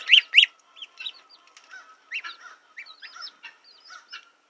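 Goslings, ducklings and chicks in a brooder give high, close peeping calls, loud bursts at first and then softer, scattered cheeps over a faint steady hum.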